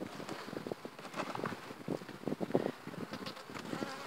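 Honeybees swarm and buzz around an opened hive while a super is being added, a dense, fluttering hum with individual bees darting close to the microphone.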